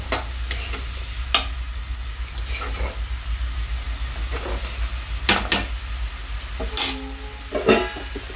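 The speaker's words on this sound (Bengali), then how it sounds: "এবার আমি মশলাটাকে ভালো করে কষিয়ে নেব" Cumin and coriander spice masala with turmeric and chili powder sautéing in a pan for bhindi masala, a steady sizzle broken by sharp scrapes and clinks of a spoon against the pan, close and fairly loud.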